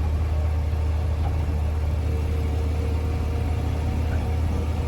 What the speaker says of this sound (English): we're in second gear, overtaking a cyclist